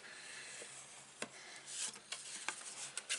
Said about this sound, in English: Now you can just burnish all your score lines again.